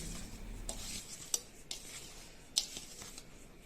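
Thick amla chutney of fried gooseberries, garlic paste and oil being stirred by hand in a pot, with a few scattered utensil clinks and scrapes over a soft background, no talking.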